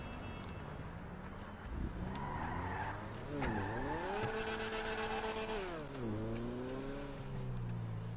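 A car in the video game GTA 5 Online revs and shifts through rising engine tones while tires squeal and skid, loud and close, with quiet game sounds underneath.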